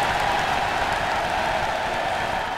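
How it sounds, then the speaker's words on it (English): A steady, even roar of stadium-style crowd applause plays as a sound effect, dense and continuous with no whoops or cheers, holding a constant loudness throughout. "That's the stadium clap."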